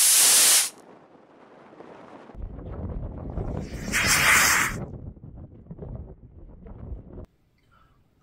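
PVC-cased sugar rocket motor with a number 21 nozzle on a static test stand, firing as a loud roaring hiss that builds and surges for several seconds before cutting off, outdoors with no talk.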